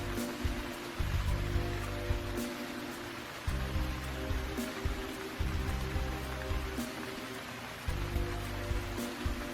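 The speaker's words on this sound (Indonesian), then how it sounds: "Hanya tersisa rintikan hujan yang seakan tak lelah menghantam genteng rumah Waluyo." Steady rain drums on the tiled roof of a house, a dense, even patter of drops that carries on without a break and with no voices.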